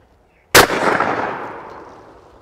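A single sharp, loud shotgun blast at a clay target rings out after a short silence, followed by a long echoing decay that rolls away outdoors.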